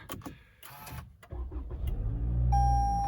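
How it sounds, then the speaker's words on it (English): A Toyota Camry XLE is push-button started: a few clicks and a whirring crank, then the engine catches and settles into a steady low idle, with a soft electronic chime appearing near the end. "So I'll start this one up. Of course, it's push button start on the XLE."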